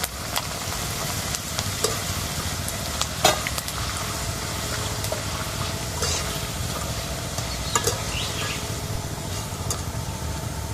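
Thin potato slices, cut in decorative patterns, fry in a large batch in not-yet-fully-hot oil for homemade village-style chips, giving a steady dense crackling sizzle throughout with occasional sharper pops and light stirring scrapes.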